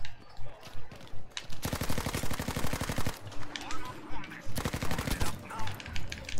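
Rapid automatic gunfire from a Type 100 submachine gun in Battlefield 5 multiplayer comes in long, loud bursts of tightly spaced shots, with short pauses between the volleys.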